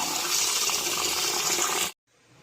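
Tap water gushes steadily into a container to soak dried sardines for a stir-fry. The sound is close and constant for about two seconds, then cuts off abruptly, leaving a faint hiss.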